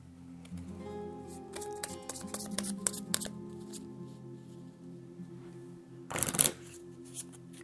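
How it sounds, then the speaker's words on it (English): A deck of Arkham Horror card game cards is shuffled by hand at close range, with crisp riffles and snaps, then a pause, then a louder burst of fast riffling near the end. "but first this has to get shuffled up."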